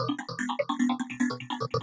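Glassy psytrance lead from a Harmor synth with opposite sample-and-hold modulations: rapid stepped notes jump between bright, shifting timbres over a steady low tone, a busy, even stream with no talking.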